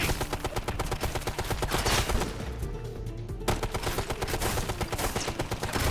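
Machine gun fire from the video game Ghost Recon Future Soldier rattles in dense, continuous rapid bursts, loud and close, with a brief thinning in the middle before the hammering resumes.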